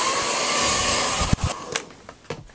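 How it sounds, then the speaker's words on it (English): A small handheld dryer blows steadily on a wet water-resistant jacket, a continuous loud airy whoosh that cuts off partway, followed by a few brief thumps and rustles. "And if I get my little dryer here."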